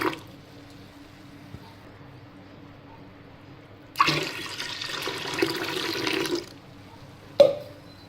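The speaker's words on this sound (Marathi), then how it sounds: "चिकामधील पाणी काढल्यानंतर आपल्याला परत या डब्यामध्ये पाणी टाकायचं आहे" Water gushes for about two seconds into a container of soaking wheat starch for making kurdai. It is poured fresh after the old water is drained, followed by a brief knock against the container in a quiet kitchen.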